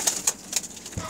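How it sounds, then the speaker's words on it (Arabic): Pigeons at a loft: several quick bright flutters of wing flaps come in a short uneven burst, with a low soft coo near the end, close and moderately loud. "هاي الطيور الحلوة ماكو أحسن منهن"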